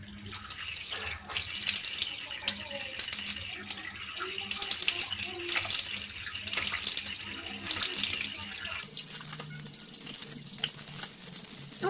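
Water runs from a faucet into a bathroom sink while a face is being washed, a continuous close splashing with bursts of louder gushing and occasional faint talk.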